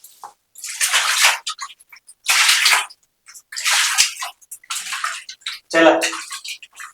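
Water is poured out of a bucket in several separate splashing bursts with short silences between them, loud and close, and a voice is heard briefly near the end.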